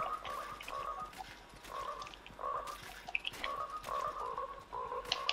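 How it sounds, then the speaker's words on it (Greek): Frog croaking in the video game Fortnite, a repeated low croaking call coming in several bursts over steady ambient game sound, fairly close and moderately loud. "Βάτραχος."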